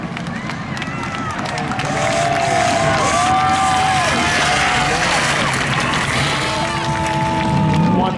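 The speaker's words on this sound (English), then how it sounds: "Give Jenna a round of applause, ladies and gentlemen." A spectator crowd at a Seekonk Speedway drag racing event cheers and applauds, swelling from a steady background murmur into sustained loud clapping and shouting, with a race car engine whining faintly through it.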